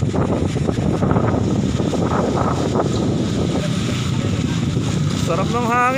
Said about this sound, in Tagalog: grabe ang lakas ng hangin dito